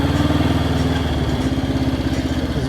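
A Honda CL77 Scrambler motorcycle engine runs close by with a steady, pulsing idle, its carburetor in need of tuning; the throbbing note stays loud and even throughout with no talk.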